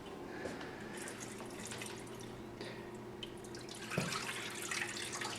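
Dye fluid is poured into a container for dyeing a disc golf disc, a steady close trickle with light dripping and a brief splashy surge near the end, no voices over it.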